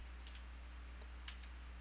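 Light, sparse keystrokes on a computer keyboard during a lecture, a few soft clicks in quick bursts over a low steady room hum, quiet and close.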